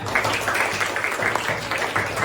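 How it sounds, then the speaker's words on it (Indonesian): Seventh-grade students in a classroom during an Islamic morals lesson clap together, a brisk, even patter of many hands filling the room and continuing steadily throughout. "Tepuk tangan semuanya."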